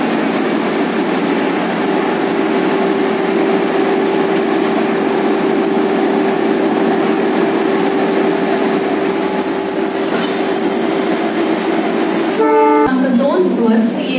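A train on the Mumbai to Kolhapur route, with an extra banker engine at the rear, rumbles steadily nearby with a sustained tonal hum, then a short series of sharp horn blasts near the end.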